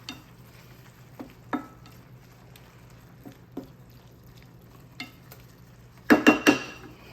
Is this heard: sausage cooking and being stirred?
yes